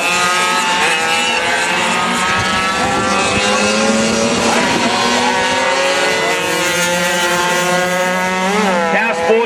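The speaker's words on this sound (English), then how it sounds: "hopefully we're going to see them and a whole lot more other guys back there racing on the 85cc junior motors" 85cc junior motorcycles race past, their engines a loud, sustained high-revving whine that rises and falls in pitch as they shift, with voices faintly underneath.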